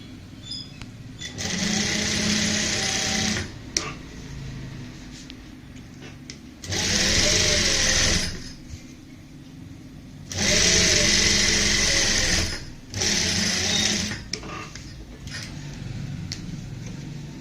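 A sewing machine stitches double lace onto plain fabric for a neckline in four separate bursts of rapid whirring, each a couple of seconds long, with quiet handling between runs.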